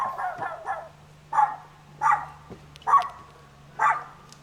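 A dog at a disc golf event barks about five times in a steady, spaced rhythm, the barks loud and close over a low background hum.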